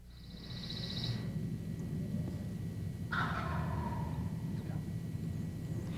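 A wild turkey gobbler in Alabama's spring woods gobbles twice, a short rattling call and then a fuller gobble a few seconds later, moderately distant over a steady low outdoor rumble.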